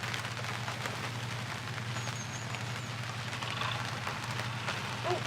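Rain falls outdoors in a steady, dense patter over a garden, holding an even level throughout with a low constant hum underneath.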